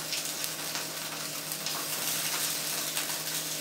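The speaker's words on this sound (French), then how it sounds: "Remettre encore un tout petit peu d'huile et on va commencer la cuisson de nos galettes de polenta." Polenta galettes fry in oil on a plancha griddle with a steady, close sizzle and crackle, with no voices.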